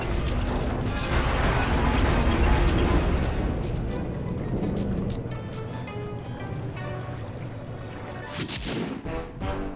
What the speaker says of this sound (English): So Bentley just destroyed the Ferris wheel.